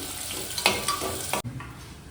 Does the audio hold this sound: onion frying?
yes